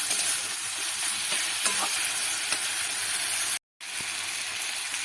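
Tomatoes and spices sauté in a pan over medium heat, giving a continuous moderate sizzle with faint stirring, briefly broken by a short silent gap.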